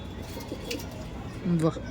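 Andra pigeons in a loft giving a few soft coos under quiet human talk, with one clearer, louder coo near the end.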